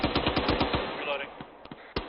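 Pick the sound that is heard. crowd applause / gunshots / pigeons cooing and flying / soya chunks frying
gunshots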